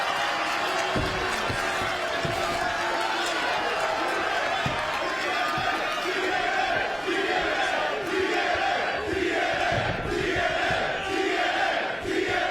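A wrestling arena crowd roars without letup during a TNA match, a loud sustained wall of cheering and yelling with scattered thuds beneath it, while a commentator's voice cuts through the noise.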